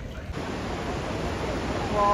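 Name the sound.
Barachukki waterfall rushing water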